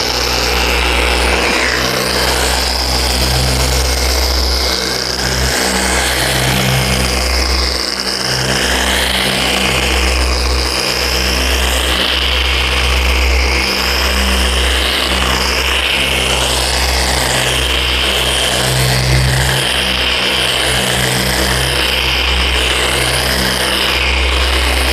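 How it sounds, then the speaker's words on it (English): A low-speed orbital buffer applies paint sealant to a car's surface, giving a continuous loud motor drone with a steady low hum and shifting whirring overtones throughout. "we used a low-speed orbital buffer to apply the product"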